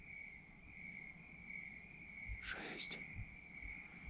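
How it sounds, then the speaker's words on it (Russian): A steady, high-pitched cricket trill drones continuously at night on Deadman's Creek Trail, with a faint voice and a brief rustle partway through. "Сверчки, слышите?"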